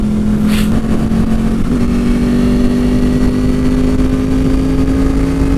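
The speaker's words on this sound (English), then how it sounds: "I wasn't really paying attention, and I just did a clutchless downshift." A motorcycle engine pulls at a steady mid-range drone while accelerating, with a brief blip around a clutchless downshift early on, loud and close with no talking.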